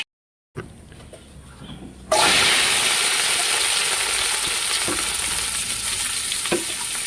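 After a quiet start, a loud, steady sizzle bursts in as food hits a hot pan, continuing with occasional stirring scrapes.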